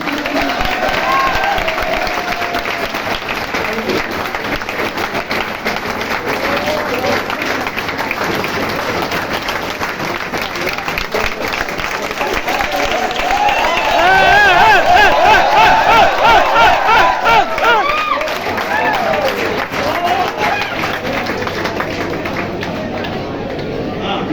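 Parents and students at a stethoscope and apron ceremony for NEET 2023 selected students keep up sustained clapping with crowd murmur throughout, growing a bit louder and denser toward the middle before easing off.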